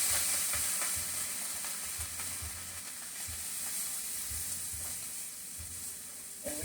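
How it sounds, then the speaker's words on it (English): Bell peppers and onions sizzle steadily in a hot roux for gumbo while being stirred now and then, a close, continuous frying hiss with no talking. "add my bell peppers and onions and mix it in here and just cook it up really"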